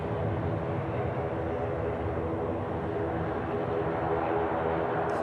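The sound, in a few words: airliner arriving from Ibiza at Manchester Airport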